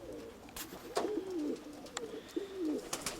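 Pigeons coo at a loft, several soft rolling coos in a row with brief gaps, mixed with a few sharp wing flaps or clicks, moderately close but fairly quiet.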